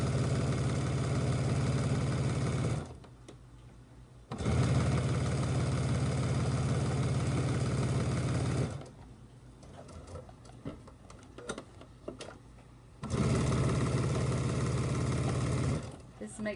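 Sewing machine stitching across a washcloth, three long bursts of steady fast mechanical whirring with quiet pauses between them.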